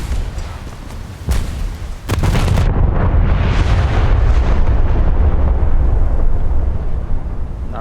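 Naval guns from warships in War Thunder fire with sharp cracks, then a heavy booming blast swells into a long, loud rumbling roar that sustains to the end.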